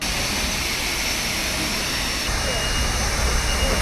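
Steady broadband roar of a jet airliner cabin in flight, a constant loud engine drone filling the space with a slight rise in intensity near the end.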